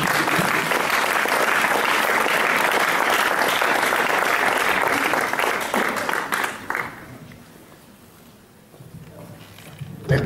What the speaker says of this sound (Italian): volevo chiedere, insomma, di accoglierli con un applauso